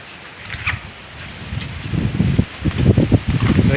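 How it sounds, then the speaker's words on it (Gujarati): Strong gusty wind blows outdoors in a village, a rising, rumbling roar that swells and buffets through the second half, with faint rustling mixed in. "ગજબનો પવન નીકળ્યો છે"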